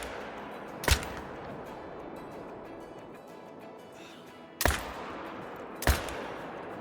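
Three sharp AR-308 rifle shots at wild hogs in the hunting game Call of the Wild: one early, then a long quiet gap over faint ambience, then two more shots close together, loud and crisp.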